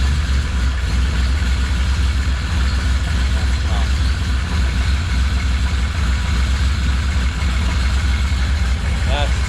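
Lumpy, loping idle of a cammed Ecotec turbo engine, a steady loud low rumble close by that continues throughout, with people talking over it.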